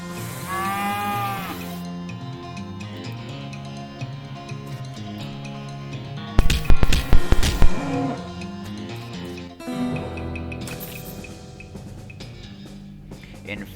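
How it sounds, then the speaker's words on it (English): A cow moos in the comedic western video game West of Loathing, with low drawn-out bellows standing out from game music and clicking sound effects. "You're ambushed by a cow who is hiding in a nearby billboard."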